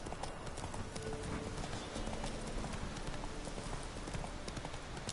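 Horse hooves clip-clopping in The Witcher 3, a quiet steady trot of game hoofbeats with faint background ambience and no speech.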